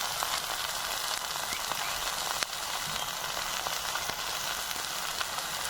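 Pumpkin leaves seasoned with salt and turmeric fry in a hot pan with a loud, dense, continuous sizzle, close up, with faint occasional ticks from the pan.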